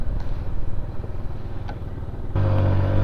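A motorcycle lane-splitting through Washington DC city traffic gives a steady engine rumble with wind noise, growing slightly louder and harsher near the end as the throttle opens, with surrounding car traffic and no talk.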